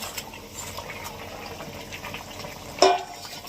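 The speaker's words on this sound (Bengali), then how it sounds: "শিম আলু ঝোল ফুটছে," A bean and potato curry simmering with tilapia fish added makes a steady bubbling, watery hiss, with one louder splash-like burst near the end.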